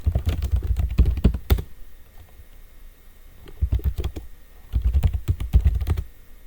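A command is typed on a computer keyboard in two quick bursts of close, crisp keystrokes separated by a short pause, with no voice over them.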